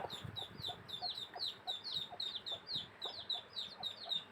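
A hen clucks softly among young chicks on a farm, her low calls faint and intermittent beneath a rapid, continuous stream of high thin peeping, all heard quietly at a little distance.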